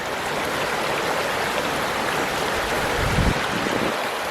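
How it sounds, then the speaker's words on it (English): A creek flowing right beside a campsite picnic table, a steady close rushing and burbling of water that holds evenly throughout with no voices. "the sound of the creek."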